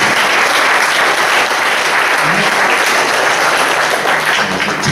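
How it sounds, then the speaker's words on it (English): A comedy night audience gives the comedians a round of applause, dense sustained clapping from a crowd throughout, loud and close. "I think we should all give them one more round of applause."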